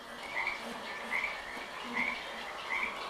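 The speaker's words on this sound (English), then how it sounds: "You can still hear the frogs." Frogs croak in a swamp, four evenly spaced rasping calls about every three-quarters of a second over a steady background chorus, fairly close and clear with no talking.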